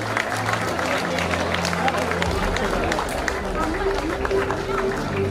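Graduation audience clapping in a large hall, a steady dense patter of many hands under crowd chatter and a spoken voice.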